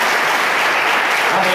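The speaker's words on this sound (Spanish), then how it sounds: "Denle un aplauso entonces." Church congregation applauding together, a steady dense wash of clapping that holds at full strength for the whole short stretch with no pauses.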